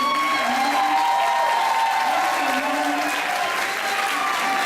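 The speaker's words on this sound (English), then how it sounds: "I think we deserve one more clap for that" Audience applause fills a room at a kindergarten move-up day, steady and dense throughout with scattered cheers mixed into the clapping.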